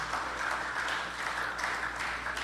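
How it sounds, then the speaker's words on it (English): Audience applause at the awards and closing ceremony of the CWI Men's Under 17 50-over Championships, greeting the runners-up team from Barbados. The clapping is moderate and steady, with a faint room hum beneath it, and no one speaks over it. "And a round of applause, ladies and gentlemen,"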